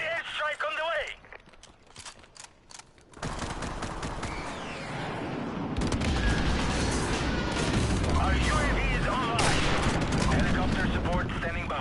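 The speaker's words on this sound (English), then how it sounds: "that close to an airstrike" Airstrike in Modern Warfare Remastered, heavy rolling explosions and scattered gunfire building into a loud sustained rumble over several seconds, with someone talking during the opening part.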